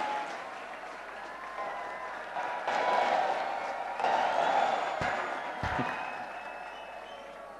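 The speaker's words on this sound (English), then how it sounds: "I think they all deserve a big, big, big round of applause." An audience at a student parliament event in Pune claps in a sustained wave of applause that swells and fades, with a few sharp knocks near the end.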